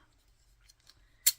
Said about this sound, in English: Your children's got scissors like this.